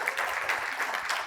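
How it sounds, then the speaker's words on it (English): An audience applauds a panel of young Gen Z hotel-industry panelists, with a brief burst of many hands clapping at moderate level in a room. "Can you give them another round of applause?"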